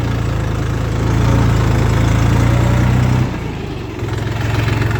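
Tractor engine working in a field during autumn ploughing: a loud, close, steady diesel rumble that drops off abruptly near the end, then quickly picks back up.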